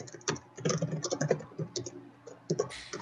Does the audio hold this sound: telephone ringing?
no